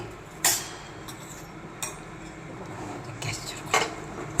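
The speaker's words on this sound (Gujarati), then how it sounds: "ધીમા તાપે તમે ટમેટાને આ રીતે હલાવજો" Tomatoes stirred in a pan over a low flame for a Gujarati sev-tomato curry, a few distinct spoon scrapes and clinks against the pan over a faint background sizzle.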